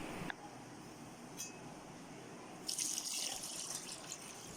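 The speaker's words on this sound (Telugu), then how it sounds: "ఇడ్లీ రవ్వని మినపప్పుని రెండింటిని బాగా వాష్ చేసుకోవాలి" Idli rava and urad dal being rinsed in water, a steady gush and splash of running tap water with a louder burst of sloshing toward the end, close by with no talk.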